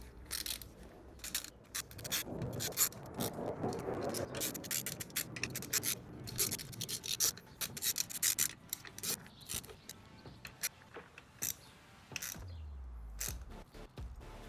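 Bolts being hand-tightened on the alternator of a 1979 Honda CBX motorcycle: close, quiet scraping, clicking and ratcheting of metal parts in irregular bursts, ending with a low thud.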